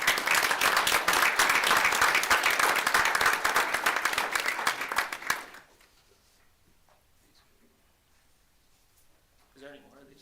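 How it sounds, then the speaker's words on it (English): An audience at a school board meeting gives a loud, dense round of applause for two wrestlers, holding steady for about five seconds before fading out; quieter room sounds and a brief voice follow. "You guys can give them one more big round of applause"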